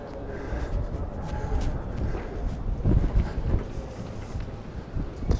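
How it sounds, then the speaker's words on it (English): Wind gusting through narrow old-town streets opposite a church in Palma de Mallorca buffets the microphone in a steady low roar, swelling louder in the middle, with faint street murmur beneath. "I think the wind has just been funneled by these streets."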